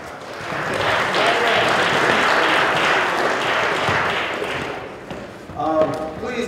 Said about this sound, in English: Please give Brother Ham another round of applause.